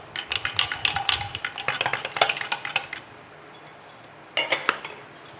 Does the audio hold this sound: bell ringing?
no